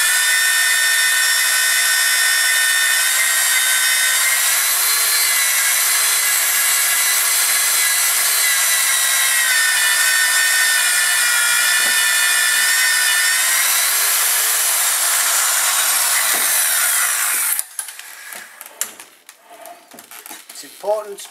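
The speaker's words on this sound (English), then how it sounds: "we're now going to plane both pipes simultaneously so that we get them both flush against the planer" A planer faces the ends of two double-containment plastic pipes at once, giving a loud, sustained high-pitched scraping whine that runs about seventeen seconds, then stops abruptly, followed by scattered clatter and handling knocks.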